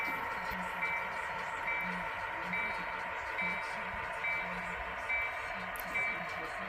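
Regular reversing beeps sound from a Conrail locomotive backing out in a rail yard, repeating evenly about every second over a steady engine rumble with low background noise.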